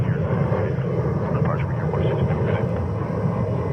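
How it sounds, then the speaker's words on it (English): A Frontier Airbus A321neo departs JFK, a steady loud roar of jet engines holding for several seconds, with talk in the background. "Next departure is, what is it, Frontier Flight 1871 to Atlanta, Georgia on a 321 Neo coming up next."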